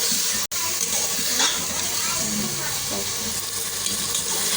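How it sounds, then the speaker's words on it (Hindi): Beef pieces fry in oil in a pot for achari gosht, giving a steady loud sizzle with bubbling and occasional stirring, close up and continuous with a brief dropout near the start. "थोड़ी देर हम इसे फ्राई करेंगे यहाँ तक कि गोश्त का जो अपना पानी है ये काफ़ी हद तक ड्राई हो जाए।"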